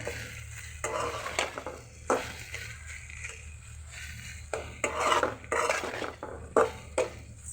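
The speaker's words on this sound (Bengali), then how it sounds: "ভাজিটা আমি নেড়ে দিচ্ছি।" Okra fry, slightly scorched, stirred in a pan: a spatula scrapes the metal in repeated short strokes over a faint steady sizzle, with pauses between strokes and no speech.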